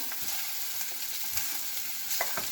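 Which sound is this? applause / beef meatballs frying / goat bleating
beef meatballs frying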